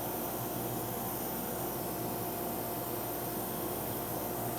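Laser cutter slicing polyester stoles, giving a steady, even broadband hiss and airy whoosh that holds constant for several seconds, with no talking.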